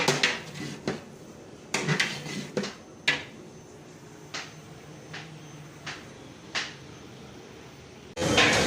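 Metal ladle scraping and knocking inside a big cooking pot as 20 kg of khoya is stirred into carrot halwa for a wedding hall, with irregular clanks and scrapes at close range, no talk.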